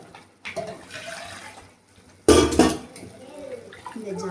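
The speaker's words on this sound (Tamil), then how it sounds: "தேவையான அளவு தண்ணி வச்சிடலாம்." Water poured into a cooking pot of curry, a short splashing gush after faint kitchen clatter, close and fairly loud, trailing off into softer sloshing.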